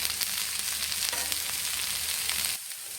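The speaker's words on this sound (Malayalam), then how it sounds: "എല്ലാം നന്നായിട്ട് വഴറ്റിയിട്ടുണ്ട്" Spices and green chillies sautéing in a pan for Kerala egg curry, a steady bright sizzle with faint stirring scrapes that suddenly drops quieter near the end, close and alone.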